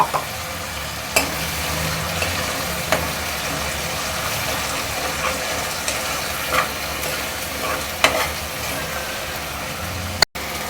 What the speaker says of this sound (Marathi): थोडं फोडणीमध्ये पाणी घालूया म्हणजे मग आपली आल्या लसणाची पेस्ट चिटकणार नाही